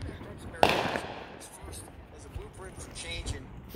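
A single sharp Fourth of July firework bang, followed by softer crackling and distant pops, with people's voices murmuring in the background.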